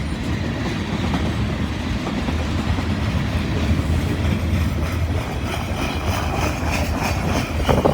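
Freight cars of a long train, among them an old Pan Am car, roll steadily past close by with a constant low rumble and faint rhythmic clacking, no talking.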